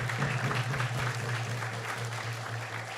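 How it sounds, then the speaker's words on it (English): A devotional gathering's audience applauds after an Aarti performance, a dense, even patter of clapping held at steady volume over a low electrical hum. "So let's give her a big round of applause"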